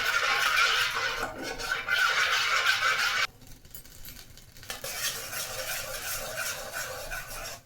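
A spoon stirs food in a pan in continuous dense scraping strokes, close and fairly loud, pausing for about a second and a half before resuming more softly, with no speech.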